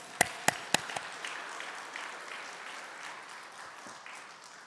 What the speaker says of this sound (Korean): 박수로 받도록 하겠습니다